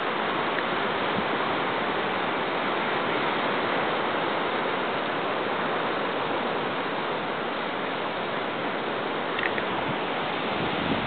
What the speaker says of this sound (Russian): Тут, как всегда, большие волны, люди купаются.